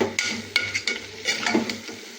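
Mixed vegetables including beans, carrots and broad beans being stirred in a pan for a Tamil mixed-vegetable kuzhambu, with soft sizzling under repeated scraping and clinking strokes of a spoon against the pan.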